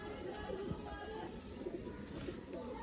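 Breeder pigeons coo softly in low rolling phrases within a loft, faint and steady against background hiss, with light rustling.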